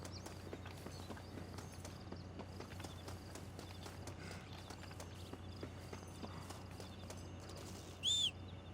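A horse walks in Red Dead Redemption, its hooves clopping in a quiet steady rhythm under low game ambience, with a short bright tone near the end.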